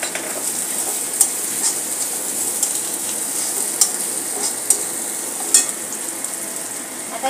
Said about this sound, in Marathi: आता यामध्ये घालणार आहोत 1 बारीक चॉप केलेली हिरवी मिरची.